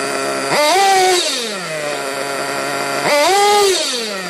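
A nitro-fuelled RC car engine being tuned, idling with a steady buzz and then revving up sharply twice, each rev rising in pitch and falling back to idle, loud and close with no talk.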